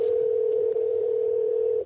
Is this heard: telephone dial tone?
yes